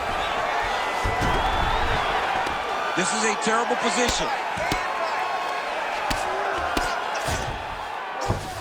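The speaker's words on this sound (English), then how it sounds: "crowd absolutely loving it as the fighters, however compromised, make their way back to the feet" A UFC 5 video game crowd cheers and roars steadily during a fight as the fighters scramble back to their feet, with a sharp slam partway through and a commentator talking over it.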